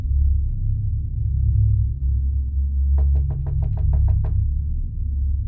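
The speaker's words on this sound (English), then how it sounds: "I heard what sounded like a knock" A knock at a door at night: a quick run of about ten sharp, evenly spaced raps in the middle, over a steady low hum in a quiet room.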